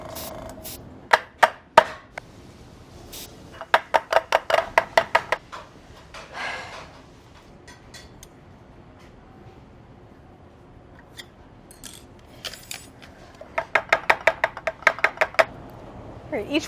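Rapid bursts of light tapping as a pan of homemade gourmet Reese's-style peanut butter cups is knocked against a surface to smooth the chocolate tops, several clustered rounds of close, sharp taps separated by quieter gaps.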